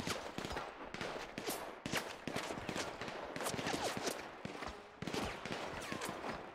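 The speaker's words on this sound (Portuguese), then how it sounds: "os caras tá atirando lá até agora" Rapid bursts of video game gunfire crack repeatedly in a Counter-Strike style mode, dense and overlapping like an ongoing firefight, fairly quiet overall with no talking.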